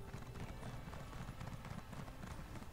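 Horse hooves clip-clop in a steady trot across a bridge in Elder Scrolls Online, quiet and continuous under game ambience, with no talk.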